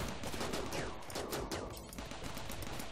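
Turret gunfire in Rimworld, a steady stream of rapid, fairly quiet shots rattling on for the whole stretch without pause.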